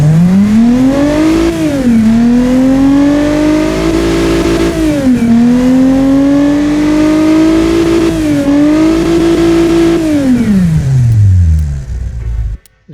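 A DMC DeLorean V6 engine in the Automation car game revs loudly and close, its pitch climbing and settling in repeated sweeps before dropping away and cutting off near the end.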